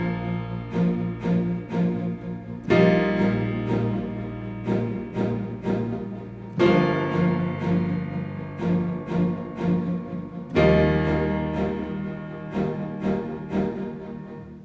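A keyboard plays full chords on a rhythmic pulsing patch, with steady repeated throbs and a new chord struck every few seconds, clear and alone with no talking.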